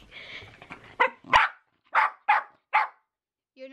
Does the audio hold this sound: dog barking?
yes